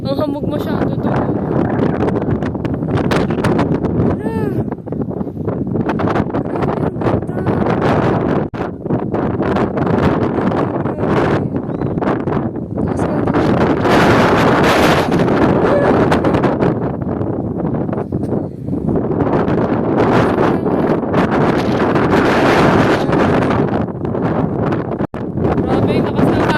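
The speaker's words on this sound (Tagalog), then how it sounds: "Grabe, lakas ng hangin." Strong coastal wind at Kenting buffets the microphone in loud, continuous gusts that surge and ease throughout, with people talking in the background.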